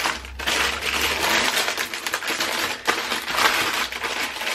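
Plastic packets of diamond painting drills are shuffled and moved, giving a continuous close rattling, crinkling clatter of tiny resin beads with a few sharper knocks.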